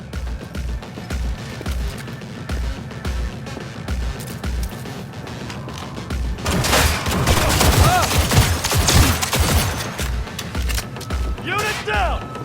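Bursts of automatic gunfire erupt in a shootout in Cyberpunk 2077, with heavy volleys swelling midway over steady rhythmic background thumps, then tapering to scattered shots with ricochet-like tones near the end.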